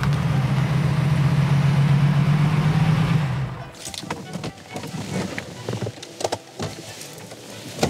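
A green car with a many-cylinder engine idles with a deep, steady rumble for about three seconds, then cuts out, leaving scattered clicks, handling noises and voices.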